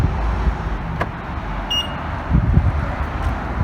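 A 2020 Toyota GR Supra 3.0 Premium locks when its smart-key door handle is tapped, giving one short electronic beep. A faint click comes just before it, and steady outdoor background noise runs underneath.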